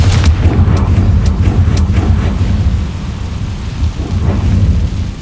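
Confringo blasting spell cast in the video game Hogwarts Legacy: a few sharp crackling bursts break into a loud, sustained rumbling boom that rolls on like thunder. No speech.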